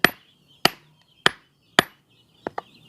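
Hammer blows striking a bearing being fitted onto a gear shaft in a cement-mixer gearbox: four sharp, evenly spaced metallic strikes, then two quicker lighter taps close together, loud and near with no talk.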